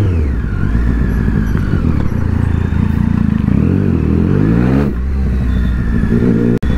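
A Triumph Street Triple 675 motorcycle on the road, its engine droning loud and steady throughout with rising and falling revs as it accelerates, plus a brief sharp drop near the end.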